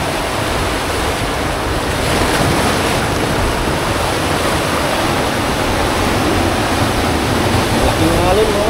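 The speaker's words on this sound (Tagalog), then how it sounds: "Laking alon" Big ocean waves at sea heard from a fishing boat, a continuous loud wash of surf and wind noise rushing throughout.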